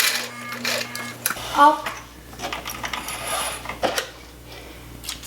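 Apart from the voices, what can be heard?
sewing machine stitching a dart in a garment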